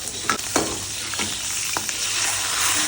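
Chopped onion, capsicum and green chilli fry in hot oil in a pan while cooking chilli fish, with a steady close sizzle and a few sharp scraping stirs of a spatula.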